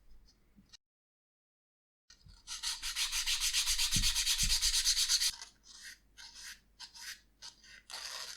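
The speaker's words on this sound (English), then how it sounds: "So the sandpaper I'm using here is a 240 grit. which is good for first rough sanding" A sheet of 240 grit sandpaper rubs steadily across leather for a cardholder, a dense, continuous scratchy sanding that starts after a brief silence and breaks into shorter separate strokes toward the end.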